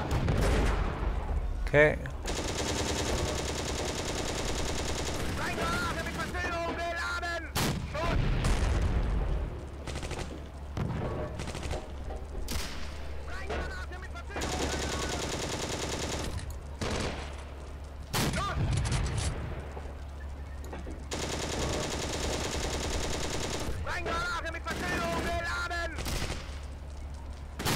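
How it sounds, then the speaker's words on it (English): Machine gun and artillery fire rattle throughout a WWII tank battle in the game Steel Fury, with sustained bursts and heavy booms of mid-distance combat over engine rumble, and someone speaks briefly. "Where's that shooting coming from?"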